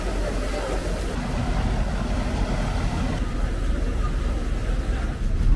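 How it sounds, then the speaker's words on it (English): A dredging system's engine aboard a boat, the motor that drives the suction pump for drawing sand and water from a riverbed, running with a steady low rumble close by, continuous and loud from start to finish. "Once the engine has been started, it is verified that it is working correctly."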